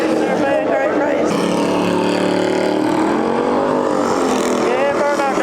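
A race car does a burnout in a racing video game, its engine screaming at high revs with rising and falling tones, loud and constant, while people talk and cheer over it.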